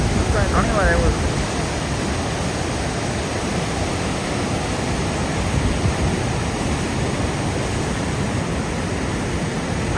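Water rushing down a hillside waterfall at Padamdungari, a steady broadband roar held at an even level throughout, with a brief voice near the start.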